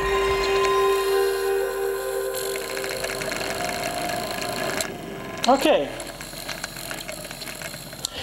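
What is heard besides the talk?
worn PlayStation SCPH-1000 disc motor gripping noise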